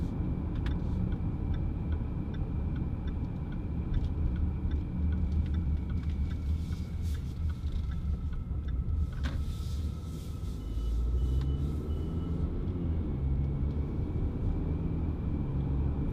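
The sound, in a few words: Jaguar F-Pace R-Sport 250PS AWD interior while driving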